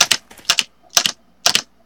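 Computer keyboard keys clatter in four quick clusters of two or three presses, crisp and close, as a Special Force player taps crouch between movement keys.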